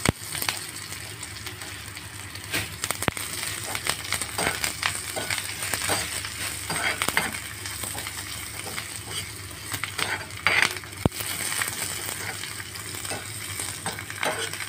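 Continuous sizzling of curry leaves and onions frying in hot oil in a pan, with occasional stirring scrapes and clicks, close and steady throughout.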